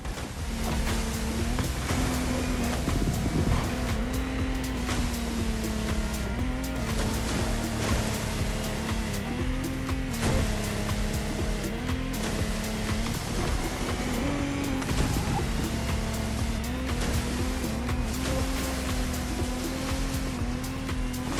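A roaring Lamborghini racing boat engine in The Crew Motorfest races over choppy water, steady and loud throughout, with a droning motor pitch shifting slightly over constant splashing surf.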